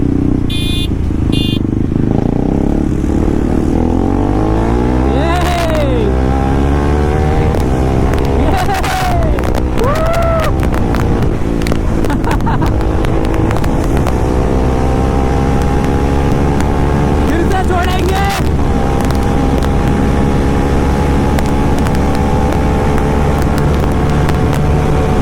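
Bajaj NS400Z and KTM Duke 390 motorcycles riding together on a road, engines droning loudly and steadily with rising and falling revs as they accelerate, passing traffic around them and a voice speaking over the noise.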